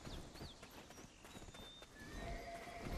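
A horse in the online role-playing game Black Desert Online moves with hoof clip-clop and a short whinny, set against a busy, noisy game soundscape.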